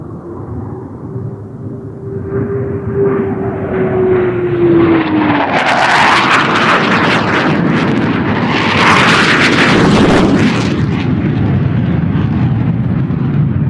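A Typhoon fighter jet flies at low level, its roar swelling from a distant whine into a loud, close, rumbling blast that stays strong to the end.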